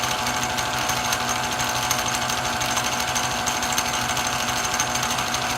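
A new 100 amp generator's engine runs steadily at 3,400 RPM, a loud, continuous mechanical drone with a busy rattling buzz that holds constant from start to finish, with no talking.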